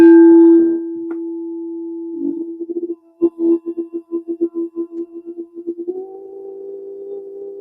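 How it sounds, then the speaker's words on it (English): A crystal singing bowl gives a pure, sustained ringing tone that holds steady, then pulses and wavers before settling into a slightly higher hum. "I have this crystal bowl that I work with, and it sounds like that."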